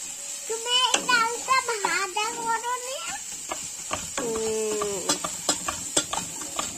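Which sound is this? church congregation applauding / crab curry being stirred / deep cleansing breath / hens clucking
crab curry being stirred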